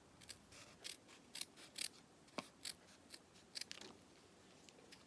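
Scissors snip through a piece of stiff felt for a Halloween craft embellishment. A series of close, crisp cuts come in irregular clusters with quiet gaps between them.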